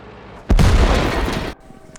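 A single heavy artillery shot and explosion in World of Tanks, a loud close boom with a sustained rumbling roar lasting about a second before cutting off abruptly.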